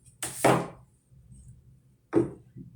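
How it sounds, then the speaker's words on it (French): A knife cuts a small piece of ginger for a fruit smoothie, giving a few crisp chops on a board: two close together, a pause, then another one or two, with no talk. "C'est ça le gingembre, je le découpe"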